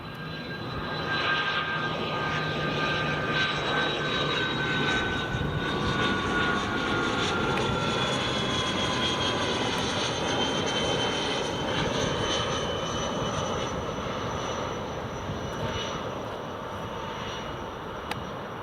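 A Belgian-registered Learjet on a medical flight lands at Newcastle Airport, its jet engine roar holding steady and loud throughout with a whining tone on top, no voices over it.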